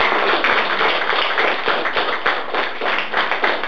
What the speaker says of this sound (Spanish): mira Melanie, un aplauso para mí.